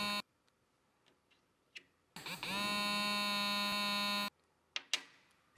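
An RS PinPointer metal detector gives one sustained, loud electronic beep lasting about two seconds, with a few small clicks before and after it.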